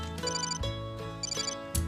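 A telephone rings in a TV commercial for a Whirlpool smart range: two bright, repeating electronic ring bursts in quick succession, loud and alone.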